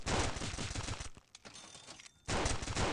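Rapid gunfire from a TT pistol in the 2D shooter Stick Warfare Blood Strike, dense crackling bursts before and after a brief lull, fairly quiet, with no talking.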